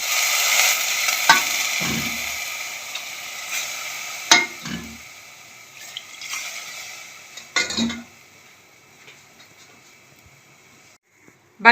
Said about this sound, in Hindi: बस सेवइयों को जस्ट मैंने आधे मिनट के लिए घी में घुमाया है।